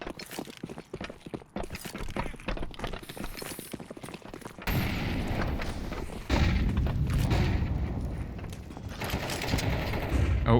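Rapid bursts of gunfire crackle through a Counter-Strike match on the Overpass map, then a heavy grenade blast turns into sustained loud rumbling and more shots.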